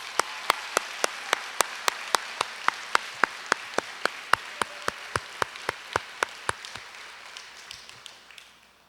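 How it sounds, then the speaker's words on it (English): Applause for parents at a 2021 middle school promotion ceremony, heard as a slow, steady run of sharp single claps, fairly close, fading toward the end, with no talk. "How about a round of applause for our parents and all they've done in this?"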